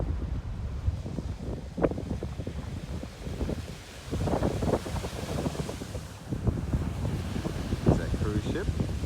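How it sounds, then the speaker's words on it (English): Strong wind gusts across the microphone outdoors, a steady rumbling buffet that swells and eases in uneven surges. "Plenty of wind today."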